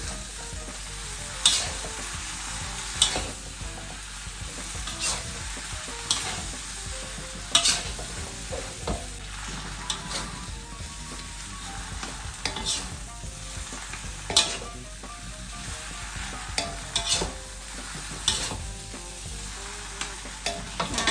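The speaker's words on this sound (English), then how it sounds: "Okay, add the noodles." Flat rice noodles with pork and kale are stir-fried in a hot wok at a Thai street food stall, with a steady loud sizzle broken by repeated scraping and clanking strokes of the spatula throughout.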